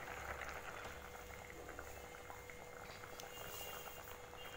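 Tamarind okra curry simmers on a medium flame, giving a steady, faint bubbling and hissing that continues evenly with no talking.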